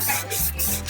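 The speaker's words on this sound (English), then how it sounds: "I'm gonna use the Scotch Brite and I'm gonna scrub this little area here." Scrubbing an old vintage mirror with a Scotch-Brite pad, a brief close rasping rub in a few quick back-and-forth strokes, with no voices.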